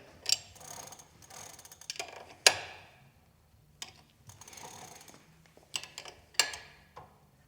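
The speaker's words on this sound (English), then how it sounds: "Use that 15mm wrench again. Just make sure that these pedals are tight." Pedals on a Higgs cargo electric bike tightened with a 15mm wrench: a series of close metallic ratchet clicks and scrapes in short, uneven bursts separated by brief pauses, no speech.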